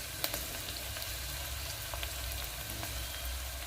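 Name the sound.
curry leaves added to frying pan, sizzling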